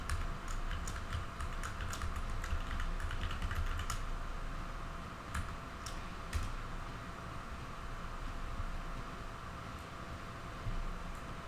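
A password being typed on a computer keyboard: rapid, light key clicks in an irregular burst over a steady background hum, close and fairly quiet, with a few isolated taps afterward.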